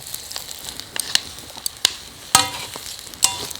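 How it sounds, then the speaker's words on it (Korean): Eggplant with ginger stir-fries over high heat: a light crackling sizzle broken by sharp, irregular clacks of a utensil against the pan, several loud close knocks in a few seconds. "좀 센 불에서 볶아줘야지 얘가 가지가 네. 이렇게 물이 안 생기고 잘 볶아져요"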